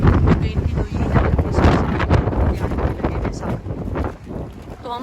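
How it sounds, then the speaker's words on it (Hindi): Strong wind roars and buffets the microphone in a dense, continuous rush during heavy weather, with rain falling. "बारिश शुरू हो चुकी है और हवा चल रही है बहुत ज़्यादा"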